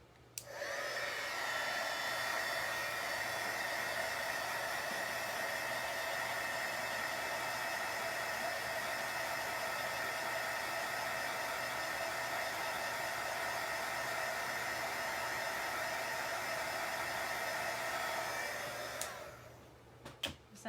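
A dryer, likely a heat tool, blows steadily on wet chalk paint over a painted book, a loud continuous hiss and whir lasting nearly twenty seconds before it cuts off with a few small clicks.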